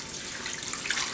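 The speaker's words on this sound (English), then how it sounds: "So once this is heated, I'm going to pour this on top too." Hot jus for Italian beef is poured over the meat in a crock pot, making a steady splashing, gurgling stream that stays even and fairly close throughout.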